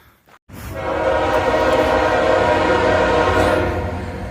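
A train rumbles steadily past at close range while its horn blasts long and loud over the rolling noise of the railcars, beside a trail crossing.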